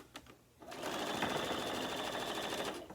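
A sewing machine stitches 8-patch quilt blocks in a steady, fast mechanical whir that starts after a brief quiet moment and runs loud and close to the end, with no talking.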